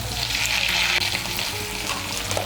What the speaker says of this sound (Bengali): মিশিয়ে নিয়ে আলুগুলোকে লাল করে ভেজে নেব